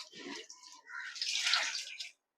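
Amaranth leaves being washed in water before draining in a basket: a quiet close-up of splashing and swishing in short bursts, then silence at the end.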